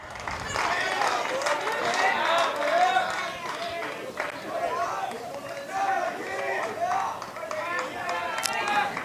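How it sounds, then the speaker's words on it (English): Lewis County baseball crowd roars and cheers after two runs score, a sustained loud wave of shouting and clapping at a high school game, with a commentator talking over it. "the Lewis County crowd goes crazy"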